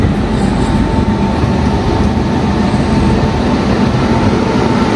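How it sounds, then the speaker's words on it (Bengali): A train pulls out of Koraput Junction with a loud, steady, close-up rumble and rolling noise that stays even throughout, with no voices. "মিনিট পর কোরাপুট থেকে ট্রেন ছাড়লো।"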